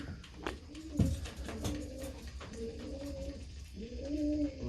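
Pigeons cooing inside a loft, soft repeated rolling coos from several birds close by, running steadily throughout with no voices.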